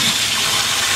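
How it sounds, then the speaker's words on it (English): Water runs from a tap into a sink during a demonstration of a Jabsco marine pump, making a steady, full rushing stream that continues unbroken throughout, with no voices. "let's fill the sink up"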